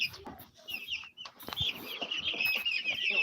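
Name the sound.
meat chickens clucking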